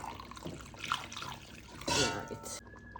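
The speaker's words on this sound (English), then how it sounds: "I'm gonna add a little water from the pot" A short trickle of water splashes and runs briefly into a pot of curried oxtail, with faint kitchen clatter around it.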